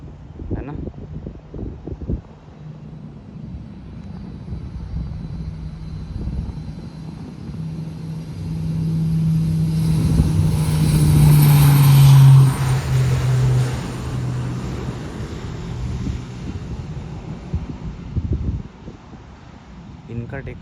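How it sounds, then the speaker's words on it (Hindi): A private charter jet takes off, its engine roar swelling to a loud peak mid-clip and then fading as it climbs away, with wind noise and people talking throughout. "एक प्राइवेट जेट मतलब चार्टर प्लेन टेक ऑफ कर रहा है।"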